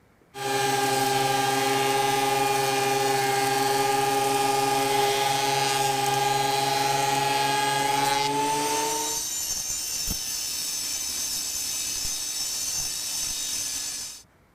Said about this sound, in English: So we'll run these things through the planer now to take out the rough spots